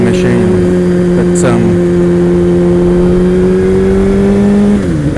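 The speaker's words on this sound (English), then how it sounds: "as you can hear, it has a Acropovic slip-on, so it has quite a good sound, especially when you get a few revs underneath it" Kawasaki ZX-12R motorcycle with an Akrapovic slip-on exhaust, a steady, loud near idle hum holding a deep tone that swells slightly near the end as the revs rise.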